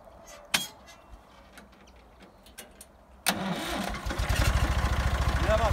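A Massey Ferguson 135 tractor that had been stuck in mud starts up outdoors: a few faint clicks, then the starter cranks and the diesel catches, settling into a loud, close, rhythmic chugging idle.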